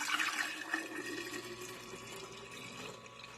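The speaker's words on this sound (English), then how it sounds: "I'm going to pour the contents of this into the jar" Milk pours through a funnel into a jar while making yogurt, a steady close liquid gush and trickle that starts strongest and gradually settles into a continuous filling sound.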